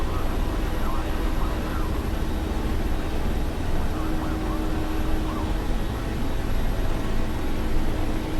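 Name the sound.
aircraft engine during takeoff in a flight video game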